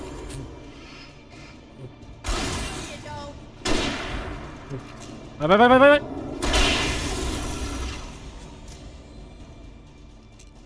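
Rifle gunshots in the Alan Wake video game: several loud, sharp blasts spaced a second or more apart, each with a brief decaying tail, over game ambience with a voice talking.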